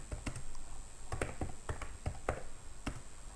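Someone typing on a computer keyboard, a handful of crisp key taps in small irregular clusters, close and fairly quiet in a still room.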